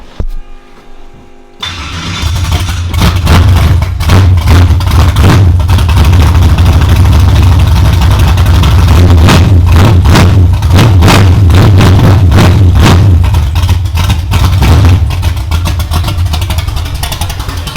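A cold nitrous Chevy Nova with a new engine cranks after a brief silence and fires up. It settles into a loud, close, lumpy rough idle with uneven pulses and occasional blips, and no one speaks.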